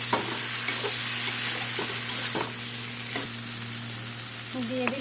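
Jackfruit and potatoes that were fried earlier sizzle in hot oil with chili, a steady frying hiss broken by regular scraping clicks of a spoon stirring the pan.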